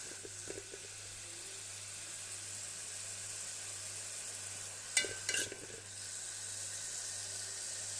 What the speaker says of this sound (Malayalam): അരിഞ്ഞ് വെച്ചിരിക്കുന്ന കോവയ്ക്ക അതിലേക്ക് ഒന്ന് ചുവന്നിറക്കി കൊടുക്കാം.